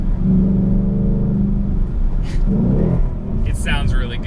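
A Chevrolet Camaro SS 1LE or Ford Mustang GT Performance Pack V8 muscle car engine revs loud and close, rising twice in throaty surges with a steady rumble between.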